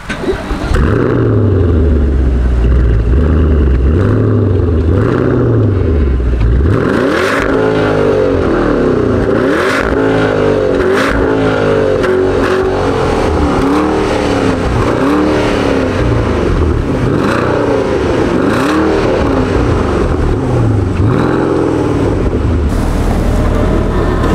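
A Porsche Turbo S engine idles low then revs repeatedly, heard from behind the car, its pitch rising and falling in loud, close bursts, settling back to a deep rumble between pulls.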